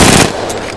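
A loud gunshot from a weapon in Apex Legends, one sharp report with a short decaying tail.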